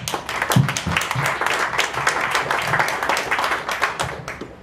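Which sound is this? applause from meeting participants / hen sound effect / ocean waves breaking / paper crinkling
applause from meeting participants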